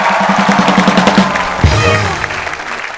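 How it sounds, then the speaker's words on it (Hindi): A studio audience applauds loudly on a TV comedy talk show, a brief burst of clapping mixed with a short musical sting. "जोरदार तालियां रेखा जी के लिए।"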